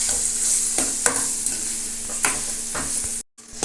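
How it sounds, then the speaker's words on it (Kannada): Ground masala paste frying in oil over a low flame gives a steady close sizzle, broken by several sharp spatula scrapes and stirs against the pan, with a brief drop in sound near the end and no talking. "ಇವಾಗ ರುಬ್ಬಿರೋದು ಮಸಾಲೆನ ಎಲ್ಲ ಹಾಕ್ಕೊಂಡ್ಬಿಡೋಣ ಎಣ್ಣೆಯಲ್ಲಿ ಮೂರಿಂದ ನಾಲ್ಕು ನಿಮಿಷ ಸಣ್ಣೂರಿನಲ್ಲಿ ಫ್ರೈ ಮಾಡಬೇಕು"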